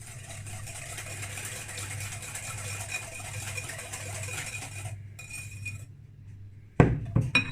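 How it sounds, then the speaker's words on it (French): Eggs and oil being mixed in a bowl for a yogurt cake: steady scraping and clinking of the utensil against the bowl, then a short pause and a few louder knocks near the end. "On va mélanger le tout pour faire incorporer toutes les matières."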